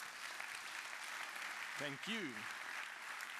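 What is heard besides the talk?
audience applause after keynote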